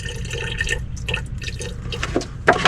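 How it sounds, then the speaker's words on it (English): Water is poured by hand without a funnel into the cells of an electric golf cart battery, a thin trickling and dripping stream, close and steady, with a brief louder splash near the end. "So I'll just fill it up to the bottom of that water level line and cap it back off."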